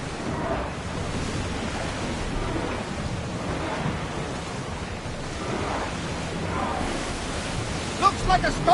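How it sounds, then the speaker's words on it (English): A thunderstorm rolls over the sea in Assassin's Creed Odyssey, with a constant wash of rain and surf, low rumbling swells and brief louder bursts near the end. "looks like a storm, Commander!"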